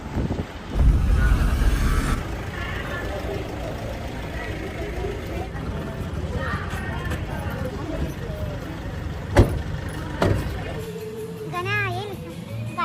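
Inside a moving car there is a steady, low road and engine rumble with wind buffeting, and voices, including a child's, talk throughout over it.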